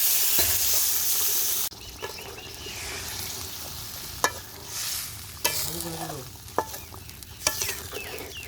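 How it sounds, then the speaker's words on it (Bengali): Mustard-masala paste and fried rohu fish with tomato sautéing in a pan, soft steady sizzle broken by sharp spatula scrapes and taps against the metal, close and without talk. "মশলাটাকে খুব ভালোভাবে কষিয়ে নিচ্ছি"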